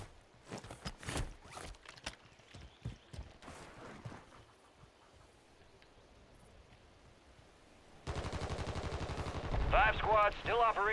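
Bursts of Call of Duty gunfire crackle in sharp, rapid volleys, then fade to sparse pops before a dense, sustained stream of automatic fire kicks in near the end, with voices talking over the action.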